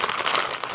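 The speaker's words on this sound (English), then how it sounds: "Fun time mixing it all up." Potsticker filling being mixed by hand in a bowl, giving a steady wet squelching and crinkling texture that is close and fairly loud, with no talking.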